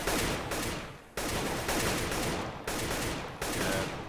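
Rapid bursts of AK rifle fire in CS:GO on the Cobblestone map, a loud, close, dense clatter broken into four or five short volleys with brief gaps between them.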